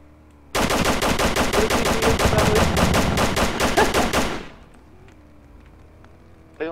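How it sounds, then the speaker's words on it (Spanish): A rapid burst of automatic gunfire in the Roblox game Grenades! Slums, loud and evenly spaced for about four seconds, then fading into a quiet game background. "Le disparé a un chico"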